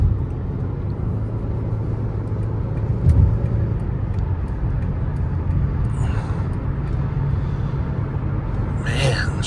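A 2008 Lexus RX400h hybrid with 173,000 miles cruising on a road, heard from inside as a steady low rumble of tyres and drivetrain while someone talks over it.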